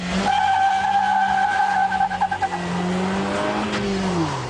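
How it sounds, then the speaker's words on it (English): A Suzuki Liana on a test track, fitted with a replaced gearbox and clutch, holds a long tyre squeal under steady engine drone, with a fluttering wobble partway through, then the squeal slides lower and fades as the car finishes skidding nearby. "That is the original Suzuki Liana."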